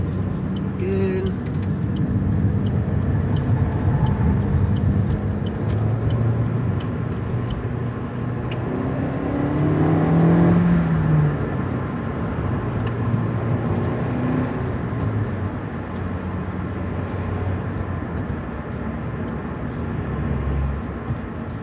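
A 2020 Suzuki Swift Sport Turbo cruising in top gear at low revs, a steady low engine and road drone with a brief swell midway, under faint talk.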